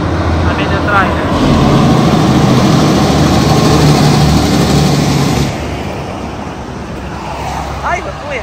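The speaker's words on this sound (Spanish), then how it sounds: "Me asustó ese carro." A car rumbles through a road tunnel in El Salvador at night, a loud, echoing roar that swells, holds for several seconds and then drops to a lower drone, with people talking over it.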